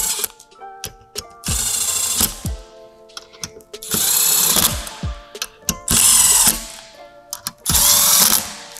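A ratchet snugs down bolts on a twin disc clutch kit in four bursts of rapid clicking, each lasting about a second, close and loud, separated by lighter metallic taps and handling noise.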